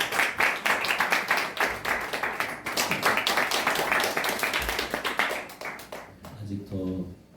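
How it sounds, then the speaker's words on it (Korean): A church congregation at a Sunday worship service claps in a quick, rhythmic patter of distinct hand claps for about six seconds, then the clapping stops and a voice begins speaking. "박수."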